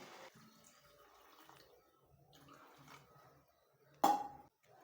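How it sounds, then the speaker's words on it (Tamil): Water poured from a vessel over pieces of country chicken in a pressure cooker, a soft trickle and slosh that ends in a sudden louder splash near the end, close by. "தண்ணி நல்லா கறி மூழ்குற அளவுக்கு தண்ணி ஊற்றிக்குவோம்"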